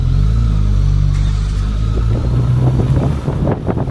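A steady engine rumble with wind buffeting the microphone, heard continuously while riding, loud and close.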